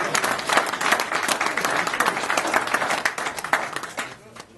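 A lodge gathering of brethren breaks into dense, steady applause, many hands clapping together for several seconds before it tapers off toward the end.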